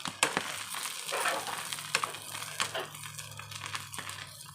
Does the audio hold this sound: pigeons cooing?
no